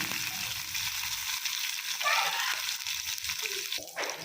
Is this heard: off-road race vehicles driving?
no